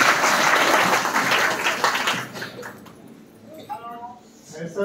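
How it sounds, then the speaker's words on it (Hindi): An audience at a school gathering claps in welcome, a loud sustained burst of applause that tapers off into quiet, after which a person begins speaking. "ताली बजा के सभी लोग स्वागत।"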